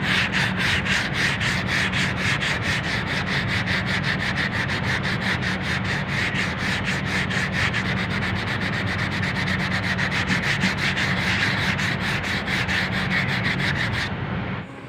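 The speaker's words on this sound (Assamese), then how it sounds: "এইটো লগাইছোঁ মই 80 নম্বৰৰ পেপাৰ। এইটো অলপ হাৰ্ড কাটিব" Car body putty is sanded by hand with coarse 80-grit paper, giving a steady, close, rhythmic scratching of quick back-and-forth strokes that runs for about fifteen seconds before stopping, with no talking.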